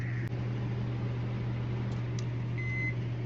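A microwave oven runs steadily while heating a vented-film chicken meal, a constant loud hum with faint fan noise and a brief beep near the end.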